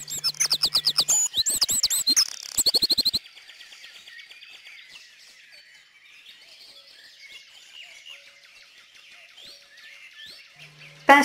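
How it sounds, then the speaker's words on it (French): A Eurasian wren bursts into a loud, rapid trilling song for about three seconds, then softer chirps from other birds carry on in the background. "Troglodyte mignon."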